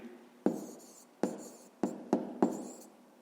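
A pen writes a decimal number on paper while a fifth-grade maths exercise is worked through, five short scratching strokes with sharp onsets and brief tails, close and quiet, with no talk.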